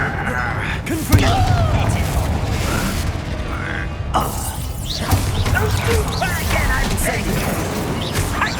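The Confringo spell is cast in the video game Hogwarts Legacy, producing a fiery blast with whooshing bursts, mechanical clanks and impact booms layered over dense combat noise.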